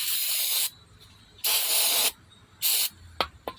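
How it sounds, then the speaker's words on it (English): Spray cleaner hisses into a car starter in three separate bursts, each about half a second long with short pauses between, followed by faint clicks. "I would just spray it in like this."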